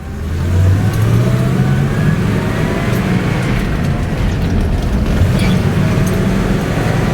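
A 1971 Pontiac Grand Prix with a 4-speed gearbox drives and shifts through the gears, its engine a loud, close, steady roar with rising revs and road noise, no talk.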